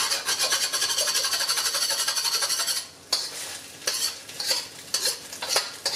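Scrambled egg cooks in a seasoned wok with a steady sizzle and repeated scraping stir strokes of a utensil against the metal, close up.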